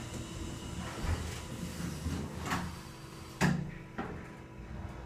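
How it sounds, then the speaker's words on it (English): An elevator door at the Holiday Inn Express in Salem, Virginia slides shut with a soft rumble and a dull thump, then a lighter knock, over a steady fan hum. "Let's watch the door shut."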